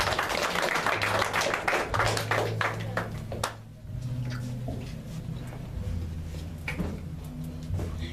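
A church congregation applauding for Jesus, a dense burst of clapping that fades after a few seconds, followed by quieter scattered taps over a low hum.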